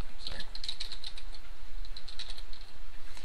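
Rapid typing on a computer keyboard, a close run of light clicky keystrokes in short irregular bursts, with a voice talking over part of it.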